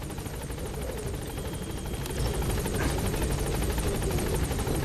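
Helicopter rotor whirring steadily inside Metal Gear Solid V: The Phantom Pain, a constant loud thrumming chop that swells slightly louder halfway through, with no talk.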